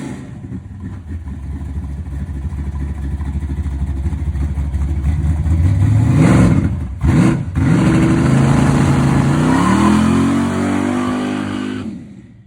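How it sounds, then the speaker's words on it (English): A hot rod pickup truck's engine drones loudly from inside the cab while driving, building up through revs, briefly dropping off as gears change, then climbing again before easing off at the end. "so I'm driving Rob's little hot rod pick-em-up truck"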